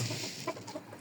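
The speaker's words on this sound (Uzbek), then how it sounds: "Mana bu jo'ja." A young chick offered for sale chirps softly, a couple of brief high peeps over low background noise, close but faint.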